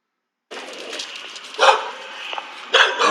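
Dog on the loose during a police encounter in Hillsdale, Michigan, heard from a distance in an open outdoor setting, giving two sharp barks over a steady background hiss.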